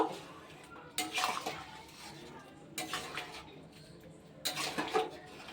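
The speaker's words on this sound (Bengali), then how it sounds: "এবার গরম মশলা দিয়ে খুব ভালোভাবে মিশিয়ে নেব" Garam masala gets stirred into a yellow pea and mutton fat curry in a pot, with three separate bursts of spoon scraping and clinking against the metal and quiet pauses between.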